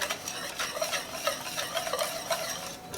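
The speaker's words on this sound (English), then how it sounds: "We're gonna stir those." A spoon stirs wet granola bar ingredients with vanilla and salt in a pot, a steady close scraping and swishing with light clinks and a faint bubbling sizzle underneath.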